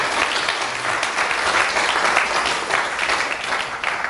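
Lecture hall audience applauding a speaker during a talk: a steady, dense round of clapping lasting a few seconds, no voices over it.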